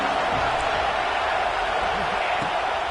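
A football video game crowd in a Tennessee game against an FCS side roars behind the defense on third down, a loud, steady wall of noise that never lets up.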